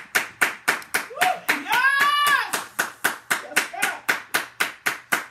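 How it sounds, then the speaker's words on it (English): A church congregation claps in a steady rhythm, about three claps per second, loud and close, while a voice rises briefly in a drawn-out shout or sung cry midway through. "Clap your hands and say yes."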